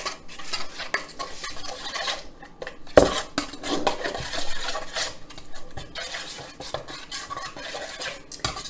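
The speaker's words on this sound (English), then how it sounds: "add a full tablespoon of the dulse flakes. And then just give that a really good mix" Dulse flakes being stirred into a vegan fish patty mixture in a bowl, a steady run of scraping and clinking from utensil against dish, with one sharper knock partway through and no talking.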